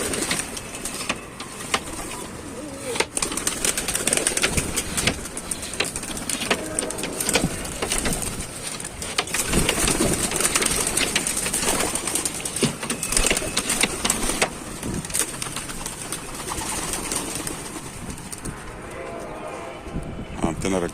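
Racing pigeons in a rooftop loft in Tanta coo steadily throughout, a continuous murmur of calls mixed with rustling and wing movement while someone talks over them.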